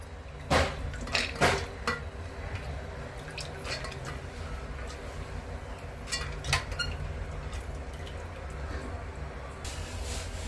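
Washed lentils, onion, tomato, garlic and green chilli go into a pressure cooker for drumstick sambar, heard as a few sharp clinks and drips of wet ingredients dropping into a metal pot, with soft splashes between quieter moments.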